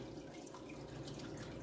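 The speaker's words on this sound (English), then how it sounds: "I try and pour like some water to one side so I can just like clean out their tank and just put the water there" Water is poured from a container into a goldfish tank, a quiet, steady running and splashing of liquid heard faintly and close by.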